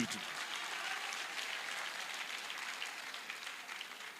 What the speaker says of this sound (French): Vous applaudissez très fort ce parti politique.